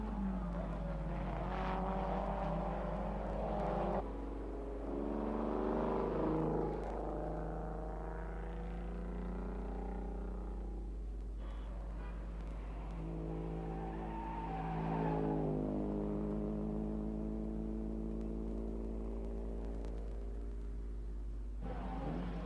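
Racing cars in a Libre race at a circuit, including a 2.5-litre Lotus Climax, a Formula 2 Brabham and a 1600cc Lotus 32, roar and rev in rising and falling engine passes under a constant low hum, with no talk.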